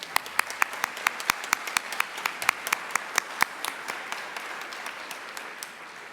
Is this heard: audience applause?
yes